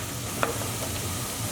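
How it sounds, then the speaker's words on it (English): Onions fry in olive oil in a pot, making a brief, even sizzle with one small stirring click and no voices. "we just want to fry our onions until they're softened"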